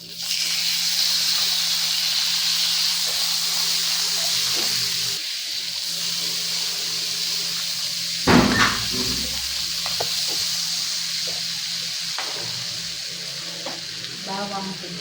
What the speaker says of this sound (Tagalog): Ito nga at maggigisa na tayo ng butter.